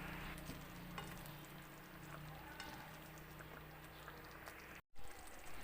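Curry powder is stirred into chicken curry in a pan, with a steady close sizzle and frying hiss throughout and a brief cutout near the end.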